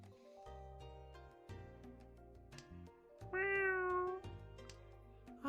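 A cat meowing indoors, a single drawn-out, rising meow standing out clearly over a soft background of game music, with no talk.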